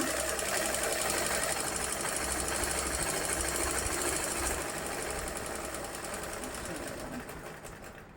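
Sewing machine running steadily while stitching fabric seams, a continuous dense mechanical whir that holds loud throughout and eases slightly toward the end.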